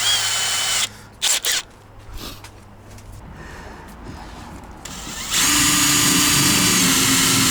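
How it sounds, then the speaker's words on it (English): A power drill boring a temporary drain hole in the rusty body of a camper, with short bursts of whirring, then quieter handling noise, and a louder steady drone toward the end. "So just temporarily I'm going to drill a hole to drain it."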